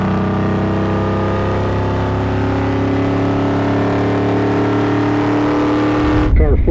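A race car engine roars steadily at high pitch and close range, holding a loud sustained drone for several seconds before cutting to a shift in tone at the end.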